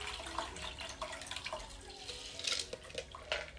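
Water from soaked mosquito bits pours through a strainer in a steady, close splashing stream, with some uneven trickling and dripping.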